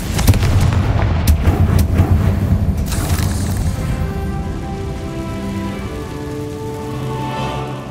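A Confringo fire spell blasts in the Hogwarts Legacy video game: a loud, dense explosive rumble with crackling bursts in the first few seconds, then a sustained roaring tail, with no talk.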